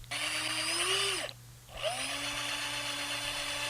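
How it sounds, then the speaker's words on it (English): A power drill whines at high speed drilling a pilot hole in cross-grained wood for a guitar jack plate, winds down briefly, then spins back up and keeps drilling steadily. "Now I'm drilling a pilot hole for where the jack plate is going to go."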